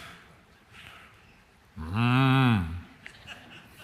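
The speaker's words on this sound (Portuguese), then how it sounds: "Deixa eu chegar pertinho, né? Fazer carinho no boi." An ox among a group of cattle in a pasture lets out one loud, drawn-out moo close by, rising out of quiet outdoor ambience and lasting under a second.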